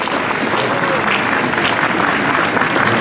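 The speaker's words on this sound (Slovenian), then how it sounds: "en lep aplavz za našo podžupanjo Tjašo Ficko" Warm applause from guests at a city ceremony welcoming the deputy mayor, dense continuous clapping held at a steady loud level throughout.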